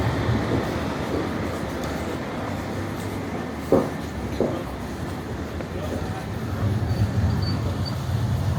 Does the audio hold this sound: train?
yes